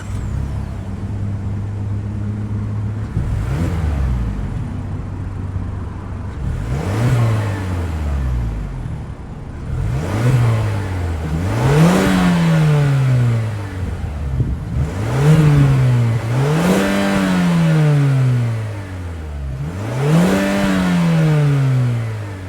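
The turbocharged 2.5-liter four-cylinder engine of a 2024 Mazda CX-30 Carbon Turbo revs through a series of rising, falling blips. The revs come one after another, loud and close, with no talk.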